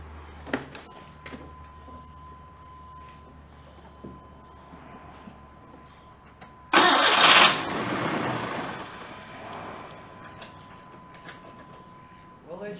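An engine that sat for nearly six years cranks and fires abruptly after a stretch of quiet clicking and ticking, bursting into a loud roar that settles into a rough, fading idle.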